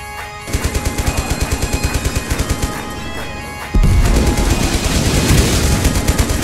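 Enemy machine gunners in the Total Conflict: Resistance video game fire a loud, steady rapid burst of evenly spaced shots, followed by a heavy, dense roar of continued fire and blasts, close and dominant with no talk.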